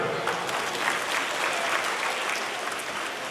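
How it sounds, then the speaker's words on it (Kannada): An audience at a felicitation ceremony claps in a dense, steady burst of applause that carries evenly from start to finish. "ನಿಮಗೆ ಮತ್ತೊಮ್ಮೆ ಹೃದಯಪೂರ್ವಕವಾದಂತಹ ಚಪ್ಪಾಳೆಗಳು"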